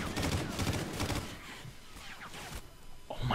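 Rapid automatic gunfire in the shooter Call of Duty: Ghosts, a dense rattling burst of shots up front that thins out into scattered, quieter reports and game noise.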